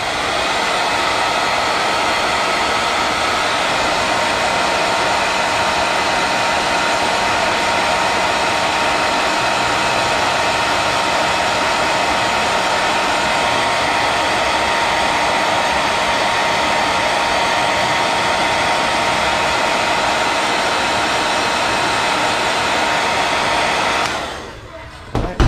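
A heat gun blows a steady, loud whoosh of hot air onto a carbon fiber decal on a Bugatti Chiron Sport, running continuously and close by before cutting off at the very end.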